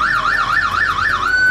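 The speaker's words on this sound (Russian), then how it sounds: "Ого, полицейская машина у вас?" A loud electronic wailing siren on a police-car ride at a Legoland amusement park, rising and falling several times in quick succession close by, then settling into a steady tone.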